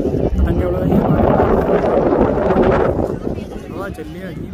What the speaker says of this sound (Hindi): हवा चल रही है, तेज हवा में मजा नहीं है